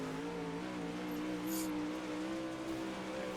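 A dirt late model race car engine at Knoxville Raceway in the iRacing sim holds a steady, buzzing drone, fairly faint and unbroken, with no voices.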